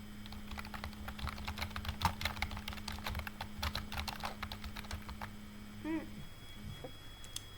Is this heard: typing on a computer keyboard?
yes